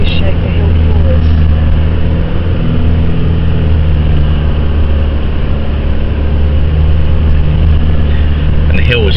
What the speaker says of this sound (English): it's got an anti-stall system on it, so it keeps the revs up on the vehicle so that we can just trundle up